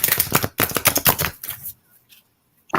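Reading cards are shuffled in quick riffling bursts, two rapid runs of crisp papery flicks close to the microphone, followed by a softer few taps and a near-silent pause before a final burst.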